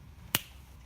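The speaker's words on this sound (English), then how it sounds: "it will appear when I snap my fingers." One crisp finger snap, sharp and close, standing alone against a faint background hum.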